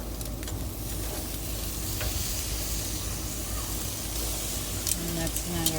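A pork chop is flipped on a barbecue grill and sizzles steadily and up close throughout, with a faint clink or two near the end.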